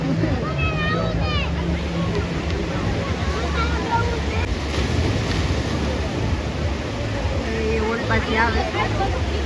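Big sea waves surge and break on a beach shore, a steady loud wash of surf with wind buffeting the microphone and faint chatter of people in the background.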